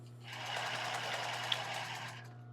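A sewing machine backstitching on an embroidered tulle bra, one short continuous run of rapid stitching that starts and stops cleanly, close and even over a low steady hum.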